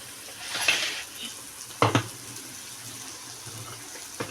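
Capsicum and other vegetables sauté in oil in a pan with a faint, soft sizzle, broken by a few sharp clinks and scrapes of stirring.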